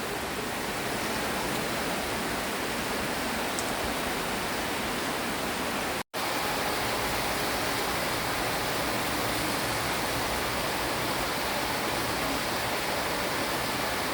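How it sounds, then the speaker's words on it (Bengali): Heavy rain pours down in a steady, dense, hissing wash that fills the whole stretch without letting up, broken only by a split-second cut near the middle. "মাই গড, আলহামদুলিল্লাহ আলহামদুলিল্লাহ, প্রচুর পরিমাণ বৃষ্টি হচ্ছে।"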